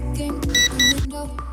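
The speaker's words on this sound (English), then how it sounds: "Rotate horizontally clockwise to hear a beep." A Z103 drone beeps during horizontal compass calibration: two bright, steady electronic tones sound close and loud in quick succession over a low hum of background noise.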